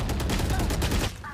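Gunfire in the tactical shooter Valorant during a spike-planted round at site B: a dense burst of rapid shots and impacts for about a second, loud and continuous, then easing off into quieter game sounds.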